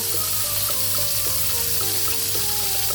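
Beef sticks frying in butter with garlic, a loud continuous sizzle close to the pan with small crackles and the light scrape of stirring, no voices.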